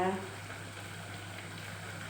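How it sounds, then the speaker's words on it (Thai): Steady bubbling simmer of a pot of Thai cassia leaf curry on a gas stove, a low continuous burble with a faint hum, and a brief voice at the very start. "สุกแล้ว เดือดได้ที่แล้วค่ะ"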